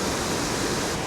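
Düden waterfall in Antalya pours with a dense, steady roar of rushing water, close and unbroken for about a second.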